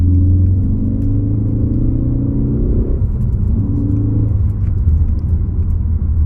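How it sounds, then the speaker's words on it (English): A Ford Focus ST-3 2.0 EcoBoost petrol engine idles steadily with a deep, continuous rumble and low hum, a slight rise in revs partway through; no talking. "Let's see if you can hear the engine."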